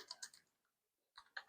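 Fast, light computer keyboard typing, a quick cluster of close key clicks, a short pause, then a few more keystrokes, quiet and alone.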